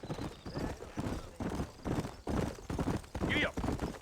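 Horse hooves trotting in Red Dead Redemption, a steady repeating clip-clop at close range, with brief neighing and a voice talking over the hoofbeats.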